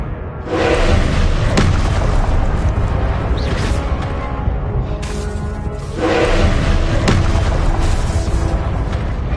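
Confringo blast spells from Hogwarts Legacy go off as heavy, loud booming bursts, with two big explosive swells around a sustained rumbling roar throughout.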